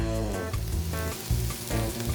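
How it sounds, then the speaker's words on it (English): A loud, close sizzle crackles continuously, with a hot platter of steak fajitas hissing and spitting in uneven bursts. "If a sizzling platter walks through a restaurant and it's steaming and being loud"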